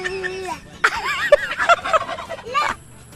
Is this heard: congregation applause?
no